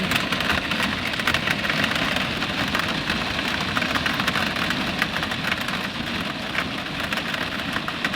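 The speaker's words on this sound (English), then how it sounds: "it is pouring, so it is what it is" Heavy rain pours steadily outdoors, a dense continuous hiss of drops drumming on surfaces, loud and unbroken throughout with no voices.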